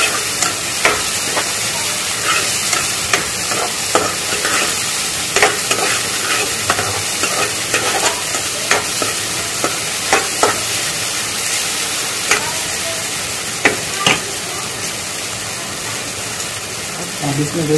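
Capsicum stir-fried in a hot pan for egg fried rice, with a loud, continuous sizzle broken by frequent scraping strokes of a spatula throughout.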